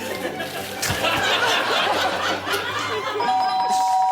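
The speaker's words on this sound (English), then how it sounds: "Oh, there's the doorbell." A doorbell chimes with clear, sustained ringing tones near the end, after a stretch of chuckling and muffled noise.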